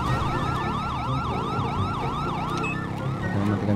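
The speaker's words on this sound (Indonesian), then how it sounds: "Kita matikan sirine dulu." Police siren wailing in a rising-and-falling cycle from GTA 5, loud and steady throughout with a low vehicle rumble underneath and no voices.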